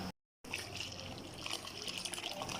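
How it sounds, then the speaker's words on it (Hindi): Milk poured into a pot for rice kheer gives a steady, continuous liquid pour with a fuller splashing texture, heard close and alone after a brief silent gap at the start. "फिर अब हम इसमें दूध डालते हैं।"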